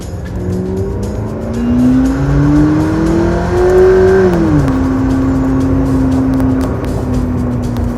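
A McLaren P1 supercar engine revs up in pitch as it accelerates, peaks, then drops and holds steady, loud and close with a rough, gritty road roar underneath.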